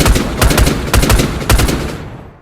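A 5.56 rifle firing in burst mode inside a Minecraft gun mod, its video-game gunshots loud and close: several rapid bursts of sharp reports in quick succession, ending with a brief tail.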